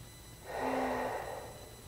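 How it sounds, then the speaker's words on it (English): A single slow breath drawn during a yoga shoulder mobility flow, a soft airy inhale lasting about half a second, faint and close, with a quiet room around it. "Take a breath."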